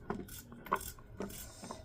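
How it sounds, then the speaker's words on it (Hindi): A knife finely chops potatoes on a board, giving close, light, irregular taps and scrapes over a quiet kitchen background, with no talking. "तो आलू को महीन महीन काट देंगे।"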